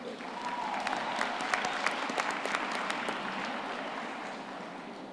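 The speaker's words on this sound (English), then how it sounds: "May we please give our guest speaker one more round of applause." A graduation ceremony audience applauds a guest speaker, a broad steady wash of clapping from a large crowd, fairly distant and filling the hall.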